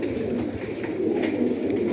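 Many pigeons coo together in a breeding loft at the start of the breeding season, with males contesting nest sites. The dense, steady murmur of overlapping coos runs close and continuous, with no voices over it.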